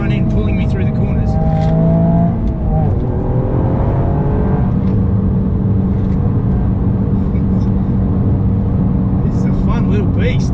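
A sports car is driven hard through corners, its engine droning loudly and changing pitch as it accelerates and eases off. The engine runs continuously up close while a person talks over it.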